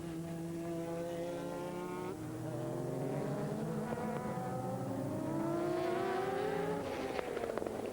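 Japanese GT race cars from the 2002 season, including works Nissans, roar past in a dense pack, several engines overlapping with rising and falling pitch as they accelerate and shift, loud and continuous throughout.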